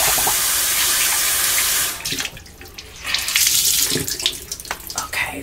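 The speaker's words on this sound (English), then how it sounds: "I'll put my face down to the sink and just, you know, splash water up on my face" Tap water runs hard into a bathroom sink, then gives way to irregular splashes as water is scooped up onto a face, close and loud with no talking.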